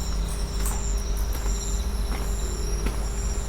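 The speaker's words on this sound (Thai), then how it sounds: "ผมแบบจะได้ยินเสียงจิ้งหรีดเสียงอะไรนี่แหละ ร้องดังอยู่ตามหลังบ้าน" Crickets chirp steadily outside behind and beside a house, a continuous faint insect trill over a low background hum, with no voices.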